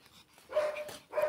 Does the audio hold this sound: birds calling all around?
no